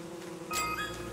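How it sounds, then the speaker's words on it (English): Bees in Don't Starve Together give off a short, close buzzing drone that swells briefly in the middle. "There's so many bees after my man Chester."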